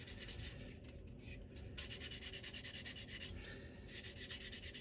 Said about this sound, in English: I'm just going to stop sanding that, or sand that area a bit less